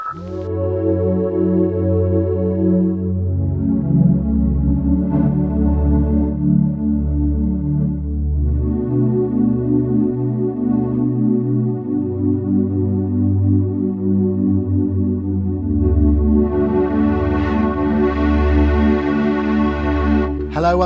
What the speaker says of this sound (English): That's the sound of the Studio Logic Sledge.